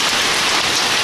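Heavy hail pounds surfaces in Novokuznetsk, a dense, loud, continuous roar of impacts with no pauses and no voices.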